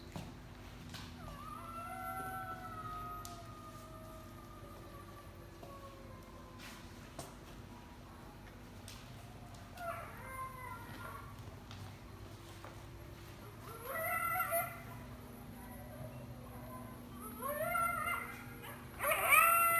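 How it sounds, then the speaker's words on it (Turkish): A jackal's howl rises and wavers in long drawn-out tones, followed by shorter yipping calls and whines that grow louder toward the end. "Tabii ki de çakalın sesi."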